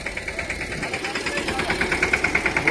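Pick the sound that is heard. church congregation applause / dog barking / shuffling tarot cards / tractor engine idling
tractor engine idling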